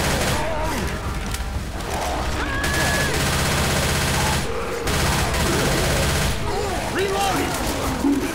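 Dense gunfire in Left 4 Dead 2 versus play against a Tank, rapid automatic bursts and shots layered over game noise and clattering mechanisms, loud and continuous, with a player talking over it.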